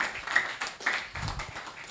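Scattered applause from an audience at a book review gathering in Venkaineri, a few uneven bursts of hand claps rising and fading, moderately distant and fairly quiet, with no talking over it.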